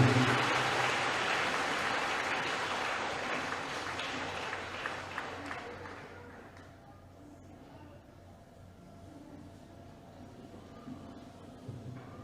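Church audience applauding a preacher, a loud dense burst of clapping that slowly fades to a quiet murmuring room over several seconds.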